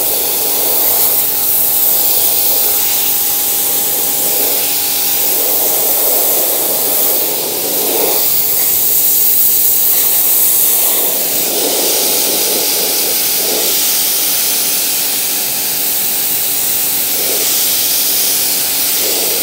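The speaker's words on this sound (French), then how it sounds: "Tu passes un coup de Karcher et ça dégage." A Kärcher pressure washer sprays a car steadily, a loud continuous jet hiss with broadband roar that holds throughout with slight surges in intensity, no voices.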